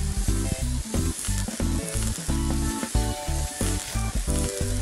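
Burgers sizzle on the grill in a VR food-truck cooking game, a loud steady frying hiss with rhythmic bursts of bright tonal game music layered over it throughout.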